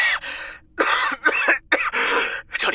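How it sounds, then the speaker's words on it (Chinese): A dramatized audiobook sound effect of violent coughing: about six harsh, close, raspy bursts in quick succession with short gasping gaps between them. "然后是一阵剧烈的咳嗽声"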